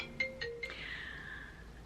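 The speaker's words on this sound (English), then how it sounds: "my phone just rang" A mobile phone rings with a few short electronic tones followed by a longer sustained tone, faint and nearby in a quiet room with no speech.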